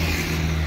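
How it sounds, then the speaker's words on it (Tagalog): Cars and engines rumble past on a hot, busy street, a steady close traffic drone with a low hum throughout. "Maraming sasakyan"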